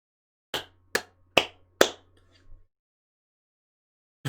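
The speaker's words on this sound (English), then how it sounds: "The biggest claps come from Mirai, of course." Characters in a Mahoutsukai Precure anime episode clap: four sharp, evenly spaced claps over a low hum, then one softer trailing clap and a final hit after a pause.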